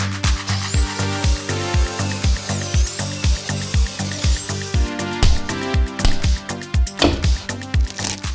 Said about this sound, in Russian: Вот это пробочник. Работает он только в сверлильном станке на маленьких оборотах.